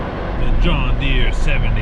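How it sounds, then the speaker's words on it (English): A John Deere 7520 tractor engine runs loud and close with a steady low rumble, hooked up to a driveline for a deep well pump, while a voice talks over it. "7520 roars to life. Engine started."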